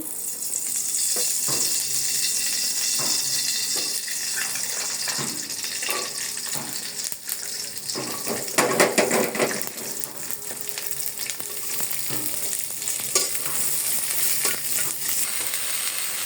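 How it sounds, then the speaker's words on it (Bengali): Garlic frying in mustard oil gives off a steady close sizzle, with spatula strokes scraping and stirring at irregular intervals and a louder burst of crackle midway, and no voices over it. "আমি রসুনগুলো একটু ভেজে নিই রসুনটা বাজার জন্য দিয়ে দিচ্ছি একটু সরিষার তেল"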